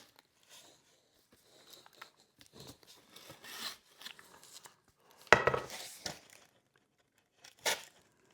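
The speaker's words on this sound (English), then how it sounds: "Got to get the tape off." Packing tape being stripped from the parts of a boxed Delta Children infant changing table, heard as quiet scattered rips and crinkles with two sharper tearing pulls near the end.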